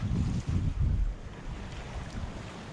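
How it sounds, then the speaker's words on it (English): Wind buffets a sailboat running under spinnaker, a low rumbling gusty roar on the microphone with water wash, loudest at first then easing. "the wind is lovely now"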